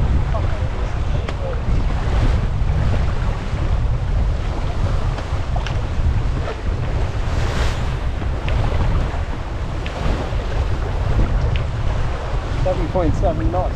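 A sailboat under way in raw winter conditions, heard as a loud, continuous rush of wind buffeting the microphone over waves and water slapping the hull, with a voice speaking briefly.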